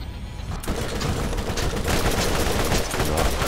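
Rapid Gatling gun fire in the Borderlands game, a continuous loud stream of overlapping shots with booming impacts filling the whole stretch.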